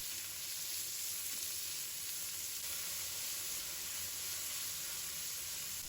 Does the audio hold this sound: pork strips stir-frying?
yes